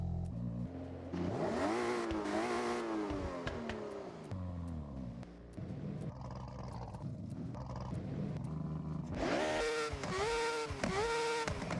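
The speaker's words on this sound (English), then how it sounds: "Was that fucking like a Hayabusa engine or something?" A rotary-engined car in the racing video game Forza Horizon 6 revs hard through repeated rising and falling sweeps, loud and up close, with brief gaps between pulls and no talk over it.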